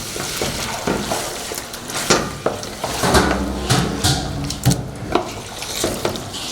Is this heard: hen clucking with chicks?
no